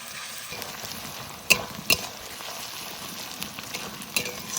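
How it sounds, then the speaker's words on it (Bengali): Ginger and garlic paste fries in a pot over a wood fire, giving a soft, continuous sizzle. A few sharp clinks of a spoon against the pot stand out on top of it. "আদা রসুন একটু ভালো করে ভেজে নিয়েছি, কাঁচা গন্ধ চলে গেছে।"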